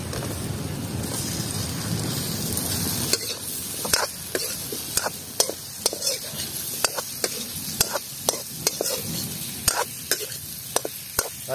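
Boiled potatoes are stirred and fried in a pan for a Goroi fish curry, a dense sizzling hiss broken by repeated sharp scrapes and knocks of a spoon against the pan, close and fairly loud.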